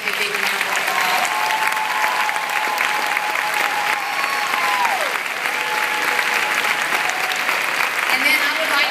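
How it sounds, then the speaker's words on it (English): Audience applause for a standing military unit at a speaking event, a steady wash of many hands clapping that holds at an even level throughout, with faint voices and a sustained tone underneath. "Let's give them a big round of applause."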